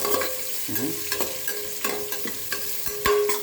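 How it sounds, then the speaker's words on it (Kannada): Onions sautéing in a pan for ghee rice, with a steady sizzle and a few scraping stirs of a spatula, close and alone. "ಈರುಳ್ಳಿ ಹಾಕೊಂಡ್ಮೇಲೆ ಸ್ವಲ್ಪ ಚೆನ್ನಾಗಿ ಬಾಡಿಸಿ"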